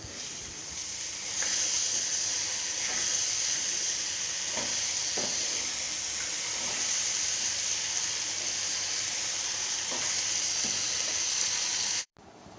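Taro curry cooking in a pot gives a steady sizzle and hiss close by, with scattered soft scrapes and taps of stirring, and it cuts off abruptly at the end.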